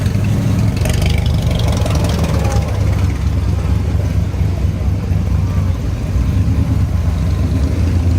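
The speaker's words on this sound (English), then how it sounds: "There goes the E-Type Jaguar." An E-Type Jaguar passes during a classic car rally stop in Bennington, Vermont, its steady, loud mid-range engine note rumbling throughout with no clear rise or fall.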